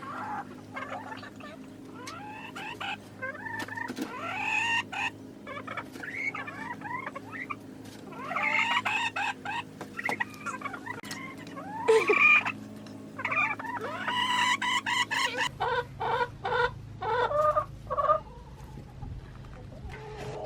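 Backyard chickens cluck and squawk in a coop during chores, with a rapid run of close, fairly loud calls and chatter that continues throughout.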